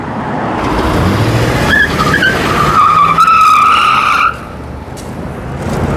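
A Buick Roadmaster launches hard in a police-style pursuit demonstration, its tires squealing in a loud rising screech over the roaring engine before the noise drops off suddenly.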